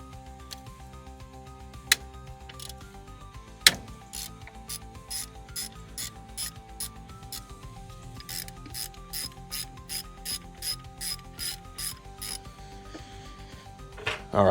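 Ratchet with a 10mm socket loosening a nut on a V6 Toyota 4Runner during tensioner and idler pulley work, a few isolated clicks followed by a long run of evenly spaced ratcheting clicks, close and clear.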